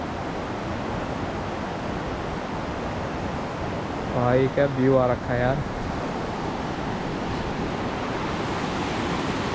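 Continuous rushing water flowing near Garjiya Devi temple in the hills, a steady broadband roar throughout, with someone speaking briefly over it midway.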